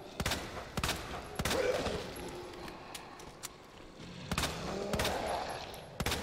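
Gunfire in the video game Resident Evil 2: a series of sharp shots in spaced bursts of two or three, fairly loud over a low dark ambient rumble, with no talking.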